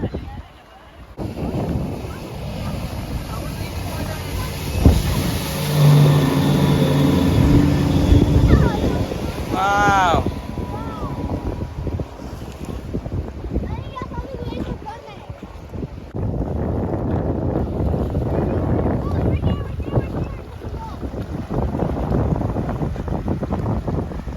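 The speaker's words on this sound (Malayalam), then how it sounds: "ബോട്ട് പോയിക്കൊണ്ടിരിക്കുക" A boat moving on water near a beach in the evening, a rumbling engine and rushing wind buffeting the microphone, with people talking over it in places.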